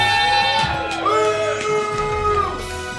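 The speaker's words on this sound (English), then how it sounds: "ladies and gentlemen, a round of applause for Shane Gale." At a wrestling show, the audience shouts and whoops loudly, with drawn-out yells rising over a broad crowd din.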